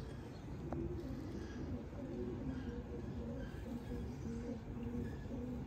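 Pigeons from a breeding pair coo softly in a repeating low rhythm over a steady background hiss, with no talking.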